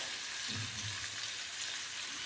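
Tomato sauce sizzles in a frying pan with a soft, steady hiss and crackle, faint and close, with a low clatter briefly underneath.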